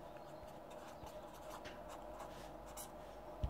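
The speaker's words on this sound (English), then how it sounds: "Let's just write it down." Pen writing down the answer to a trigonometry angle problem, a faint continuous scratching stroke at low volume with a small tap near the end and no talking.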